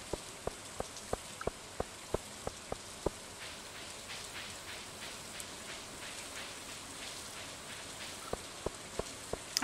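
Rain in the farming game Stardew Valley falls as a soft, steady hiss, with a run of sharp, evenly spaced ticks at the start and another near the end.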